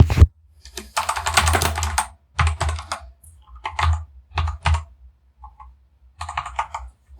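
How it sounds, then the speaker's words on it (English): A mechanical keyboard clacks loudly and close up in uneven bursts of rapid keystrokes separated by short pauses while a form is filled in. No one speaks. "By the way, I apologize for this annoying keyboard sound. This is the mechanical keyboard which will make lots of noise."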